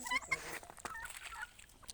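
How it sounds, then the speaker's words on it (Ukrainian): A turkey on a farm gives a few faint, distant gobbling calls over quiet outdoor background noise, with no talking. "Ось такий індик."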